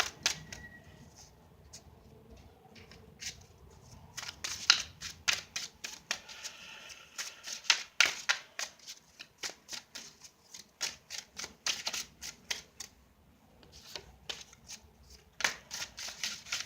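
Tarot cards shuffled by hand at close range, quick bursts of crisp riffling and flicking snaps that come and go with brief pauses, fairly quiet.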